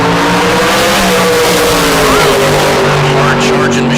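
A Pro Charge dragster launches at a bracket drag race, a loud roaring engine surging hard and climbing in pitch, heard close under an announcer's voice.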